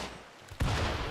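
Gunfire in the colony-sim game Rimworld during a bombardment raid: a single sharp low-heavy shot bursts in about midway, followed by a sustained rumbling roar of continued fire, close and loud, after a quiet lead-in.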